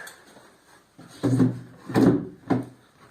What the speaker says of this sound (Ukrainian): Закриваємо вулик і дашок.